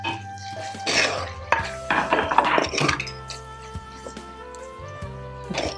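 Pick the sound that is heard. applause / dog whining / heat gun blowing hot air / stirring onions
stirring onions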